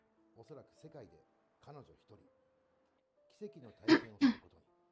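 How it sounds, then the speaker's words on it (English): A couple of harsh coughs and throat clearings burst out near the end, louder than the soft talking before them. "Sorry for the coughing"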